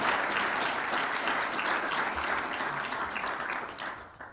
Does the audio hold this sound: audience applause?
yes